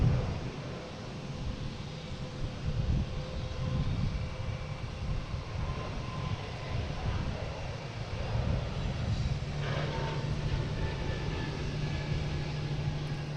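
A JetBlue jet airliner bound for Chicago roars steadily at Boston Logan, a broad continuous engine rumble with a whining tone, sustained and fairly close with no talk over it.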